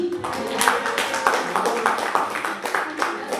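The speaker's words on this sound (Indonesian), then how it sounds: "Ini tepuk tangan untuk Pak Beni." Scattered hand clapping from an audience at a teacher training session in an Indonesian high school, a patchy, uneven patter of claps lasting a few seconds with voices mixed in.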